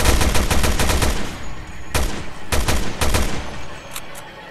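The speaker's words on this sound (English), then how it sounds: "Magnum shot took him down" Magnum revolver gunshots in Resident Evil: Revelations 2 fired in a rapid volley, followed by several separate sharp, loud blasts spaced about half a second apart, with no speech.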